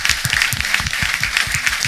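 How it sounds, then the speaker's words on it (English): A short burst of applause for the finalists at a student pitch competition, dense fast clapping with a few voices underneath, close and fairly loud. "So I want to give another big round of applause for everybody."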